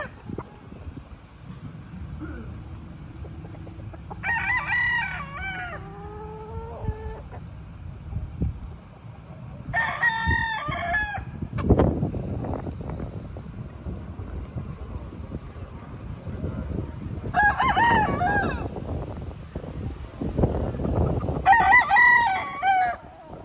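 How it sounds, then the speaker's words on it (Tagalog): Gamecock stag roosters crow one after another on a small farm, four loud, clear cock-a-doodle-doo calls spaced across the stretch over low wind rumble and faint background noise. "Ito, guwapong mga manok ito. Stag yan."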